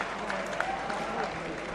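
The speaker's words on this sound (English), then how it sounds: "Great round of applause for both fighters." Crowd applause for both fighters after a bout, a brief steady wash of clapping heard alone at moderate level.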